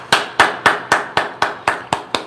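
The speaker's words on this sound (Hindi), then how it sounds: "एक अच्छी ताली के साथ" A crowd claps in eight sharp, evenly spaced bursts at a church gathering, each clap-like hit loud and close with a quick decay, no voices over it.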